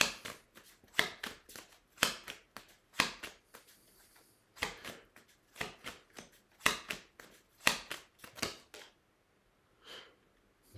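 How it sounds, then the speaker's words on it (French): Tarot cards are shuffled and drawn up close, sharp flicking snaps and riffles arriving in quick clusters with short pauses between, ending with a softer pause and a faint final rustle. "Je vais vous prendre d'autres cartes."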